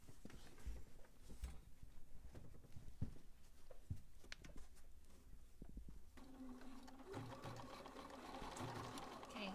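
A sewing machine fitted with an edge foot stitches a fabric hem in short, quiet runs, with scattered clicks and handling sounds before a steadier burst of stitching near the end.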